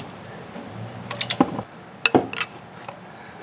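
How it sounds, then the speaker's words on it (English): A wrench cranks a bolt down to 80 foot-pounds while replacing a front crankshaft oil seal, heard as a few sharp ratcheting clicks and metallic clacks in two short bursts over a quiet background. "now I'm going to crank this down to 80 foot-pounds."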